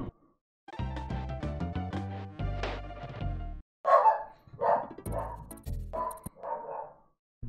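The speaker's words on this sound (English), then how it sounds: "The dog has been acting up quite a lot today." A dog barks loudly nearby in a series of sharp, harmonic barks and yips with brief pauses between bursts, standing alone without talk.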